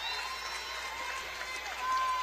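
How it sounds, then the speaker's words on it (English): Faint, distant audience applause in the Coppin State arena during a women's basketball game against Howard, honoring players finishing their careers; a soft, even patter of clapping that swells slightly at the end, with voices underneath. "they get great round of applause from those at Coppin State"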